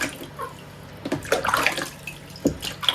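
Water sloshes and splashes in a tub as a baby is bathed, close and intermittent, with louder splashes in the middle and near the end.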